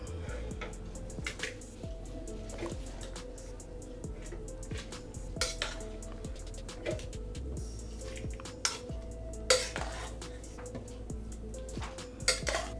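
Wooden churner working cooked dal and ridge gourd in a clay pot, giving repeated soft scraping and knocking strokes with occasional sharper clinks, steady and close with no talking.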